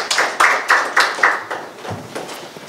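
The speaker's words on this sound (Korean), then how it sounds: "박수로 좀 받아주십시오." Several sharp, distinct hand claps from an audience welcoming a speaker at a party policy debate forum, a quick burst of about five loud claps then a softer, fading patter, with no talk.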